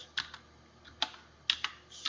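Sharp key clicks from a computer keyboard come in small uneven bursts, close and fairly quiet, with short pauses between strokes and no voices.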